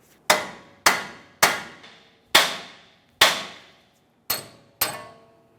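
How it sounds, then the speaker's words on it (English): Seven sharp metal hammer blows strike a 2007-2018 Jeep Wrangler outer tie rod end to knock it loose, each ringing clang fading quickly, spaced roughly evenly and heard up close with no talking. "you can either use a hammer, give it a couple loving bonks to break it free"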